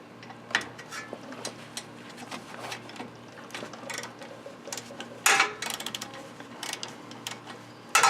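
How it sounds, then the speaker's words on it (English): A socket and ratchet loosen the brake caliper bolts on a 2001 Mustang GT, producing close, rapid clicking ticks in uneven runs, with louder clanks of metal near the end. "the next step is to remove the caliper bolts with a socket and a ratchet."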